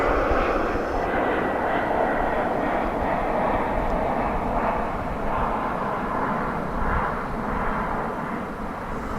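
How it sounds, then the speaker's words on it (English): An American Airlines Boeing 737-800 jet, arriving at DFW from San Antonio, gives a steady broadband engine roar at moderate distance, holding fairly even throughout without voices. "That flight just came in from San Antonio. That's American Flight 2792, 737-800."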